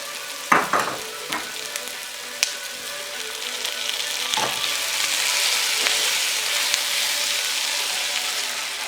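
Peppers hit a hot pan while making chicken cacciatore with boneless thighs, giving a few sharp clatters and stirring scrapes followed by a steady, rising sizzle of frying.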